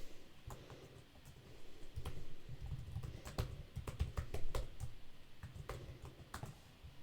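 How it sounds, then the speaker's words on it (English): Code is typed on a computer keyboard in a quiet room, with close, sharp key clicks coming in irregular bursts and short pauses, and no speech. "let's actually type codes."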